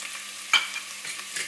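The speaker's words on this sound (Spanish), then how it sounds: "y lo voy a rehogar todo junto aproximadamente unos 4 minutitos" Onion, pepper and garlic sautéing in olive oil for homemade tomato sauce, a soft steady sizzle with a couple of sharp scraping stirs.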